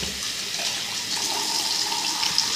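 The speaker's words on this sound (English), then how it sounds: "I wash my hands." Tap water runs steadily into a sink during handwashing, a continuous close hiss and splash with slight shifts as hands move under the stream.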